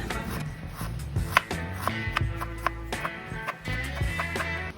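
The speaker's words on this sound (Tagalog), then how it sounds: "babalatan na po natin at i-slice na rin po natin ng maninipis. Ayan, pa-strips din siya." A knife peels and thinly slices a thumb-sized piece of ginger into strips on a cutting board, giving a run of crisp, close taps at an uneven rhythm, with no talking.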